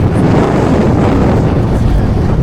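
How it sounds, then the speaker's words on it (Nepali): Strong wind roars steadily and loudly, a constant low buffeting rush with no breaks. "यस्तो दामी हावा हालिरहेको छ"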